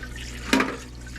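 Solvent fluid splashes once in a JEGS 5 gallon parts washer, a short close liquid splash over a steady low pump hum.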